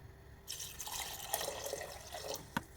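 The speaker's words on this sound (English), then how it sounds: "Yeah, I'm going to add some more water." Water pours into a cooking pot holding ginger, giving a soft, steady splashing and gurgling for about two seconds. A brief clink follows near the end.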